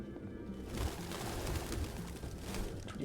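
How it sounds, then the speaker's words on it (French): Pigeons coo faintly inside an apartment in the Detroit: Become Human video game, soft repeated calls over a low background hum with no one speaking. "Tous les pigeons qu'il y a dans cet appart"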